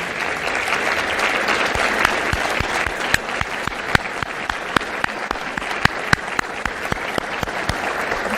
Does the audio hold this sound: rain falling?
no